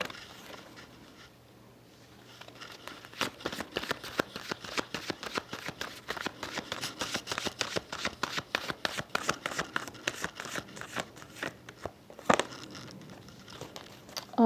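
Tarot cards being shuffled, a quiet, rapid run of soft flicking and riffling clicks lasting most of the passage, close and faint, with a brief pause after an opening stretch of near silence.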